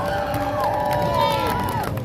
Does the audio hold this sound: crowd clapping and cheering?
yes